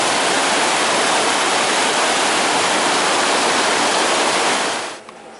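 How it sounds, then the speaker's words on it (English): A fast-flowing headwater stream coming down from Mount Hermon gives a loud, dense, continuous rush of water close by, cutting off abruptly near the end. "This water is flowing really fast."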